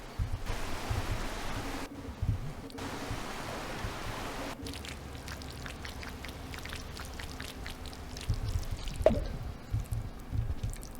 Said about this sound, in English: Stupid, thick gutter water. Impossible to swim through.